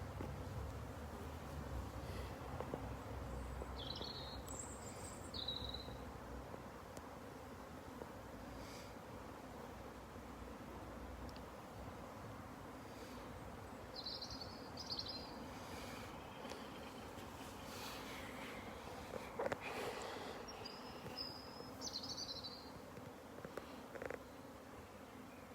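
Bees buzzing steadily around outdoor beehives, a low continuous drone filling the scene with occasional bird chirps above it and no talking.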